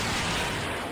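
A brief, dense burst of broadband noise from an explosion in a Kamen Rider Geats game, loud and sustained for under a second.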